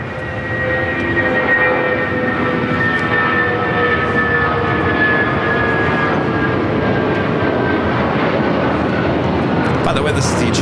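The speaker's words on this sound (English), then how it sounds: "this is the China Eastern Airlines CIIE livery, flight 586" A China Eastern Airlines jetliner in the blue CIIE livery, flight 586, taxis at LAX with a loud, steady jet-engine roar and whine that holds throughout, with no pause.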